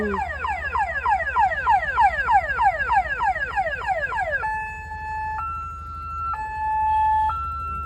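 An ambulance siren wails loudly with rapid rising whoops, then shifts to a steady two-tone hi-lo pattern, heard on a street during Mysore Dasara festivities with no talking.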